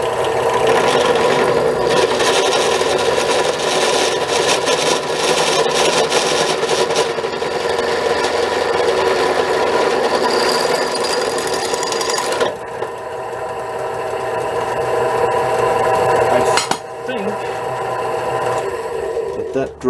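A drill bit grinds continuously into truck front bed mounts, a loud, close, sustained whine and rasp that shifts in pitch and briefly lets up near the end.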